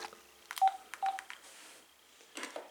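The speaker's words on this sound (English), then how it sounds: "check out the dial tone on the second handset," A second AT&T CL82301 cordless handset beeps out a quick series of short DTMF keypad tones over a faint background tone. The sound is close but fairly quiet, with a brief pause before a final cluster of beeps.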